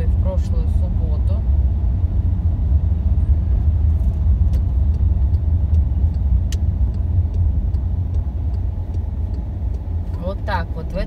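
A car circling Senate Square in St. Petersburg, its engine giving a steady low rumble inside the cabin, with someone talking over it throughout.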